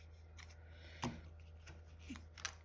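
Scissors trim craft material with a few quiet, separate snips spread over a couple of seconds, close by but faint against a low background hum.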